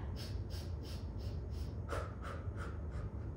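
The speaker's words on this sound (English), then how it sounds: "You can do a nice sharp breath" Sharp, rhythmic breaths during a Pilates abdominal breathing exercise, a close series of quick pumping inhales and exhales in a steady pulse over a background hum, with no talk.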